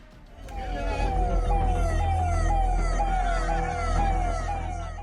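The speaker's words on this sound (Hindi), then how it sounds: "जोर जोर से सुनाई देती सायरन की आवाज" A siren wails in repeated rising and falling sweeps, steady and fairly loud over a low rumble of traffic.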